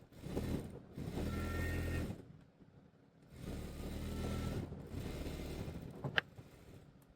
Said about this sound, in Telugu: అలాగే ఇంకో కుట్టు వేసుకుందాం.